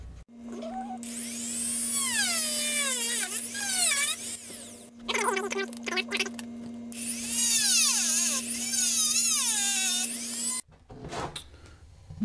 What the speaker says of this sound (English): take my Dremel, put the cutting wheel on, cut this off, and take the grinding wheel, put it on, and then grind this little thing flat right here